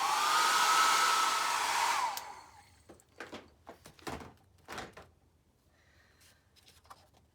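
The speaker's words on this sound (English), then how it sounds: "I might speed up the process here with my trusty hair dryer on low." A hair dryer set on low blows steadily for about two seconds while drying rubber cement, then cuts off, followed by a series of light clicks and knocks.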